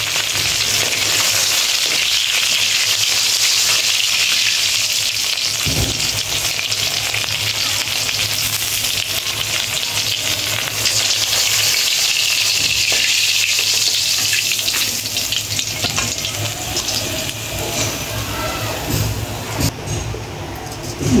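Koi fish frying in oil in a pan: loud, continuous crackling sizzle with bursts of spattering and occasional scraping, filling the scene closely with no talk.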